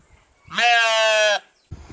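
A single loud, wavering sheep bleat lasting under a second, close by, followed by a brief rustle.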